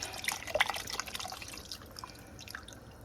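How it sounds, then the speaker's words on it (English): Beef bone broth poured from a box into a cooking pot for one-pot chili mac, a quiet liquid splashing and dripping that is busiest early and thins to a faint trickle, with no talk over it. "And 1 box of beef bone broth."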